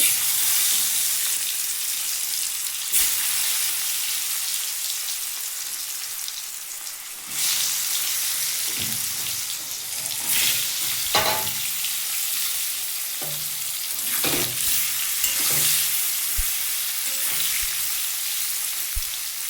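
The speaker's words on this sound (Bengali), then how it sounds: "তেলটা আমার গরম হয়ে গেছে আমি এবার কাঁকরোলগুলো ভেজে নেবো" Pieces of spiny gourd frying in hot oil, giving a continuous loud sizzle and crackle with occasional sharp pops and stirring clatter, heard alone and up close.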